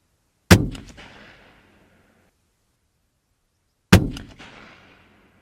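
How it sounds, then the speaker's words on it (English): Two loud, sharp Heym SR30 rifle shots ring out on a shooting range about three seconds apart, each a crisp crack followed by a long decaying echo into silence. "shoot this rifle and see actually how it functions on the range"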